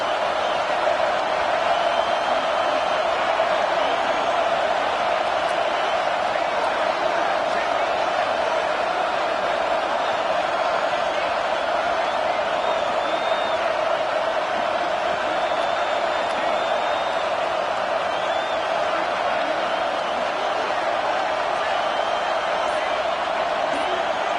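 A big football stadium crowd roars in a sustained, steady wall of noise during a tense fourth-down play, loud and continuous without clear peaks, with faint calls and whoops mixed in.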